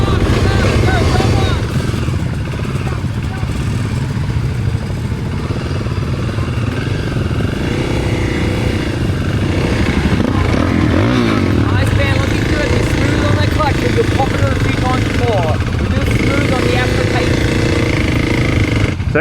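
A Kawasaki KLX 300 dirt bike putters at low speed through a slow-race drill on a motocross track, its engine a close, uneven clattering chug lasting the whole stretch, with no clear talk over it.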